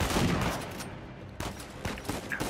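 Shotgun blasts from the video game Uncharted 4: A Thief's End, a loud booming shot at the start, then a quieter gap and several sharper bursts of gunfire near the end, with no talking.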